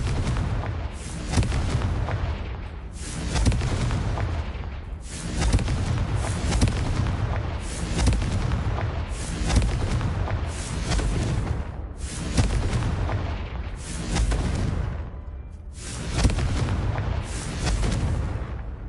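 Repeated booming blasts from the Confringo fire spell in Hogwarts Legacy, around eight heavy explosions at roughly two-second intervals, each a loud full-range burst that decays quickly before the next.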